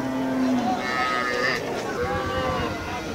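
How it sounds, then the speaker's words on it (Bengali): A Red Sindhi cow lows at a busy cattle market, a drawn-out moo rising and falling over about a second, set against a crowded background of murmuring voices and market bustle. "এটা কি জাতের গাভী? বড় সিন্ধি।"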